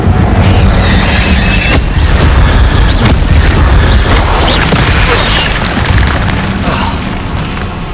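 Incendio fire spell cast in Hogwarts Legacy, a loud sustained roaring blast with rumbling booms and crackling bursts that fill the scene and fade slightly toward the end, no talking over it.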